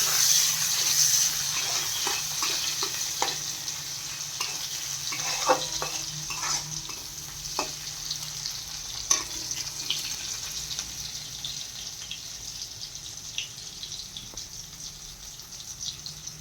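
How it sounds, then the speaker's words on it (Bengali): Onions frying in oil in a wok for a broccoli potato curry, a continuous moderate sizzle with scattered light scrapes and taps of a spatula stirring. "পেঁয়াজ কটা ভেজে নিচ্ছি দেখো ভালো করে লাল লাল করে ভেজে নেব"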